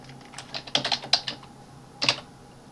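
Keys clatter on a computer keyboard in a quick burst of about a dozen crisp strokes, then a short pause and a final pair of taps, close and clear with no voices.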